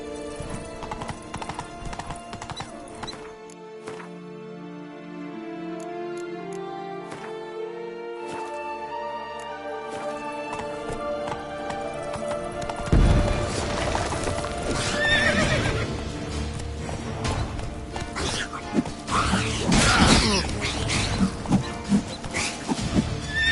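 Roach the horse in The Witcher 3 gallops with a rapid, steady clip-clop of hooves and gives loud whinnies, layered over game music that grows busier and louder partway through.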